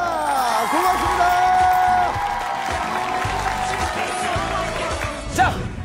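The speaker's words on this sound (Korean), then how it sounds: "학교 샤이니 여러분들에게 다시 한번 더 박수 부탁드리겠습니다" An audience applauds at a televised Korean talent show, the clapping and light cheering running steadily under a host's voice as he thanks the performers, fading slightly toward the end.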